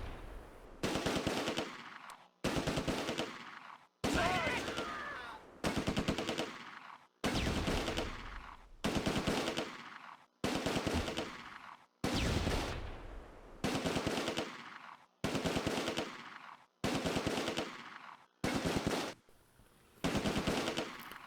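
Short, sustained bursts of automatic fire from a BAR squad in the Close Combat: A Bridge Too Far war game, about a dozen rapid volleys separated by brief pauses, loud and close, with no talking.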